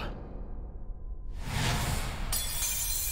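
A rising whoosh swells into a bright glassy shattering burst as AI Sada breaks apart in Pokémon Scarlet and Violet, loud and sustained for over a second.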